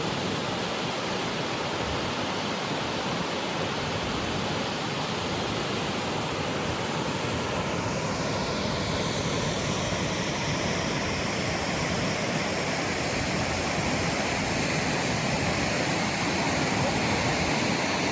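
A roaring waterfall beside the Richardson Highway in Alaska, a loud continuous broadband rush of falling water that stays steady and close for the whole stretch, with no voices over it.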